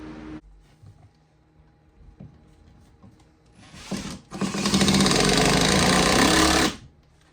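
A power driver fitted with a star bit drives screws into reclaimed wood inside a barn, a short whir followed by a loud sustained grinding whine that stops abruptly.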